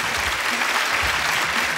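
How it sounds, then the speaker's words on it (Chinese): A television variety-show studio audience gives a dense, steady round of applause, loud and continuous throughout. "龚雪花姐姐再次给她掌声鼓励。"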